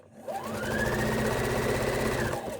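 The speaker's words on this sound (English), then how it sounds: "I'm going to sew that together." A sewing machine stitches quilt pieces together, its motor whirring in one steady, loud run of about two seconds with a fast even stitching rhythm, no voices.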